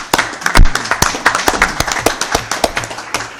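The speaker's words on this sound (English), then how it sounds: "give those guys a round of applause" A small group gives a brief round of applause for city water staff at a council meeting, with loud, uneven individual claps close by that settle into a steady patter.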